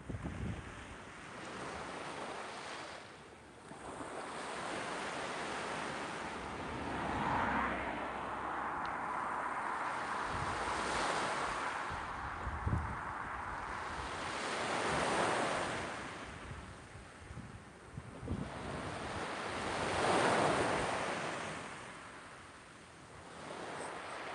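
Ocean waves at Porto Rafti Beach near Athens roll in continuously, with broad surging washes of surf rising and falling over wind noise on the microphone, steady and fairly loud with no voices.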